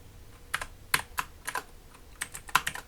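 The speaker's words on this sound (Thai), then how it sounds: "ไม่รู้พิมพ์ถูกหรือเปล่า" Computer keyboard typing comes through as an irregular run of crisp, close keystroke clicks in small bursts with short pauses, with no talking.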